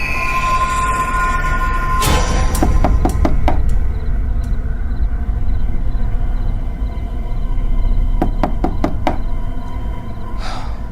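Two bursts of sharp knocks on a bedroom door, each a quick run of about five raps, rise over a steady low background hum, with a fainter swish near the end.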